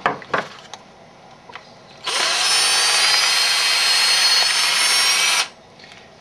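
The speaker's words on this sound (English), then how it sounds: "now that I've angled it with the drill" Power drill angling the sides of a hole in a wooden flute, a steady high whine running for about three seconds after a few short clicks and taps, close and loud, then stopping abruptly.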